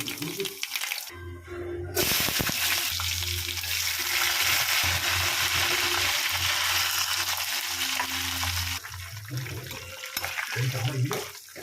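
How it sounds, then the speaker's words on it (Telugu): Peanuts and chillies sizzle loudly in hot oil, a dense crackling hiss that swells after a short pause, with some brief speech near the start and end. "కొంచెం పల్లీలు అయితే ఫ్రై అవ్వాలి"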